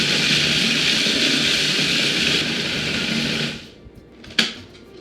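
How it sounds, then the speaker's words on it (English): A food processor grinds coconut, almonds and salt for a raw vegan chocolate banana cream pie filling, making a loud, steady whirring buzz for over three seconds before cutting out, followed by faint clatter and a brief knock. "Now I have everything in the food processor, so now I'm just gonna process it until it all starts to stick together."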